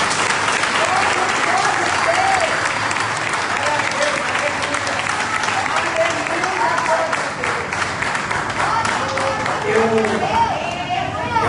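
A church congregation at a worship service applauds loudly and continuously for over ten seconds, many hands clapping together with cheering voices and chatter mixed in.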